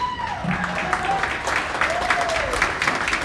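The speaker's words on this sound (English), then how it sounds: "Once again, let's give them all a round of applause." Crowd applause at a county junior livestock show awards, a scattered, moderate clapping that runs throughout while a voice talks over it and a faint tone or whistle drifts underneath.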